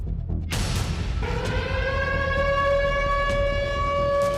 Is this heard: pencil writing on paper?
no